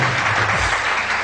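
Studio audience applause on a Pakistani morning show, a steady dense wash of clapping through the whole moment with a low rumble underneath.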